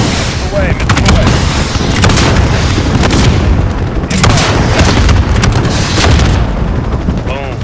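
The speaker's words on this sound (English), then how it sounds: "Missile away, missile away." A missile strike explodes in the video game Modern Warfare, a loud, dense roar of booms with gunfire crackling throughout, under radio chatter.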